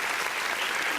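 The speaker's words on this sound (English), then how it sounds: "Applause, applause, applause, applause, applause." Audience applause during a heart health talk, a brief, dense burst of continuous clapping, fairly loud and steady.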